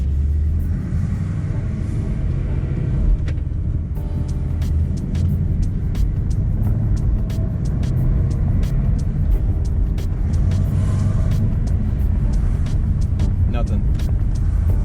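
A straight-piped Ford Mustang GT cruises in its quiet exhaust mode, giving a steady low engine and road rumble that runs unbroken throughout, with no revving or bursts.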